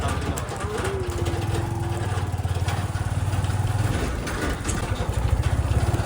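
A rain-soaked motorcycle's engine runs at idle with a steady, close, low rumble that holds throughout, and a brief chirp rises above it near the start.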